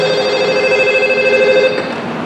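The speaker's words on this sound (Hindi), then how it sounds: "कुछ पहले घर में टेलीफोन की घंटी बजी।" A landline telephone rings in a house, one sustained electronic ring that is loud and close, then cuts off near the end, leaving a faint background hum.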